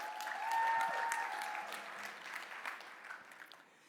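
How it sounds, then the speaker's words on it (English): A small audience applauds Senator Ana Maria Rodriguez at an opioid and addiction crisis keynote event, fairly faint and scattered, peaking early and then thinning out. "let's give her a round of applause anyway"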